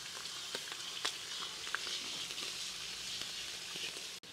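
Green chillies and curry leaves fry in a pan for a masala dosa potato palya, giving a steady, quiet sizzle with faint crackles and pops, without talk.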